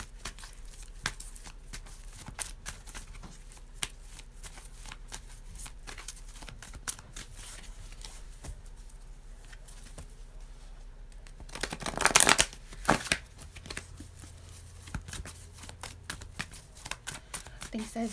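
Tarot cards being shuffled, soft riffling and card flicks under someone speaking, with a louder flurry of shuffling near the end.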